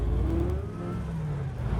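A vintage Tatra car's engine runs while driving, a steady low droning hum with a rising and falling tone as it revs, close and continuous with no talking.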